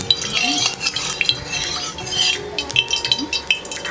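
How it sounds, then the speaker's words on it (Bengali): Oil heating in a hot wok with a spatula scraping and stirring, a close, lively run of metallic scrapes and light clinks over a faint sizzle, no talking. "নাড়াচাড়া করে তেলটাকে ভালো মতো গরম করে নেব"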